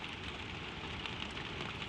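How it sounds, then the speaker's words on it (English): Gentle spring rain falls on a garden at night, a soft, even hiss of many small drops pattering steadily, close and continuous, with no voices. "In the garden below your window, the first rain is doing its slow work."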